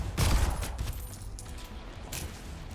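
Race shot gun fired in the first-person shooter Soulslinger: Envoy, a cluster of loud blasts near the start followed by fainter shots and clatter.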